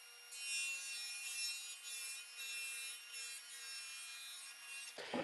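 A saw runs through plywood on a small stand, a bright, steady cutting whine with rough grinding texture for several seconds before stopping abruptly with a thump.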